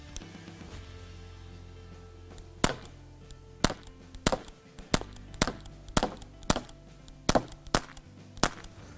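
A Walther PPQ air pistol fires a string of sharp, snappy shots, about a dozen distinct cracks spaced roughly half a second to a second apart, crisp and close over a quiet background.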